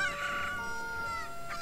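Cucco chicken in The Legend of Zelda: Ocarina of Time, a short nasal clucking squawk with a sustained tonal cry, heard alone over faint game ambience.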